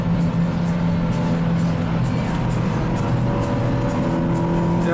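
A BMW racing past on the Nordschleife during a public touring-lap session, heard as a loud steady engine roar with a rising whine that stays close and continuous throughout, no voices over it.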